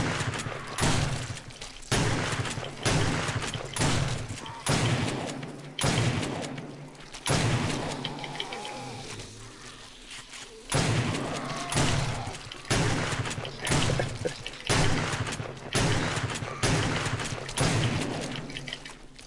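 Shotgun blasts against a zombie horde in the video game 7 Days to Die: heavy, evenly spaced booming shots repeating roughly every second or so for a long stretch, each with a decaying tail, loud and up close.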